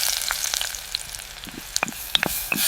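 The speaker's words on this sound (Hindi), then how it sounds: "जरीना मिट्टी के चूल्हे पर हांडी रखती है, तेल डालती है और प्याज भूनना शुरू करती है।" Onions fry in oil in a small clay pot on a miniature clay stove, giving a close, crackling sizzle with scattered sharp pops and spits over a soft continuous hiss, with no talking.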